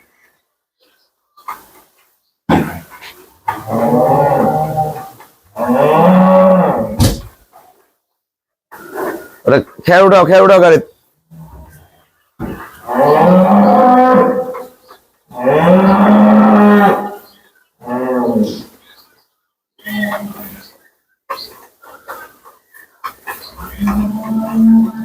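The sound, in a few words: cows mooing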